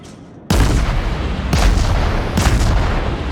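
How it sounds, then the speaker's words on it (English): Heavy warship gun salvos in World of Warships boom out loud and close, with a sharp onset and then two more broadband blasts a second or so apart over a sustained rumble, and no talk. "I fire another one"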